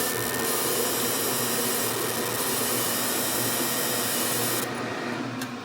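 F1 Ultra conveyor machine running a job, a loud, steady, continuous whirring roar close by that cuts off sharply near the end, with no talk.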